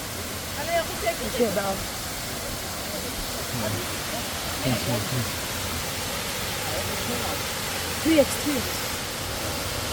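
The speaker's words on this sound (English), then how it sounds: "Hope you guys can hear the waterfall right behind me." Erikli waterfall in Yalova, Turkey, makes a constant, moderately loud hiss of rushing water heard from a short distance, with brief voices speaking over it.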